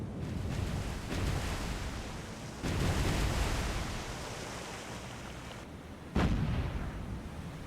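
Battleship guns fire in the naval combat game War on the Sea, USS New Jersey against Yamato: several heavy booms land over a constant roar of sea and wind, each blast rumbling out before the next.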